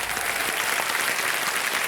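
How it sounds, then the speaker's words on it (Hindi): Studio audience applause on a quiz show set, a dense, even wash of clapping that holds steady and close for the whole stretch. "तालियां बज जाए इनके लिए।"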